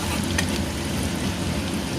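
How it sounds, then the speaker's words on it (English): Garlic and green chilies roast in melted butter in a pan for a veggie burger filling, giving a steady, close, dense sizzle that holds even for the whole stretch with no talking. "we add garlic and green chilies. Roast it for 1 minute"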